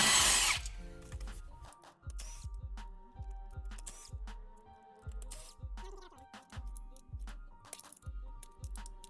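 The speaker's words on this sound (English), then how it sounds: "take out our 4 8mm bolts." A power tool removes four 8mm bolts on an S197 V6 Mustang during a low-mount turbo install. It runs in a steady series of short, close bursts with pauses and light metallic clicks between them.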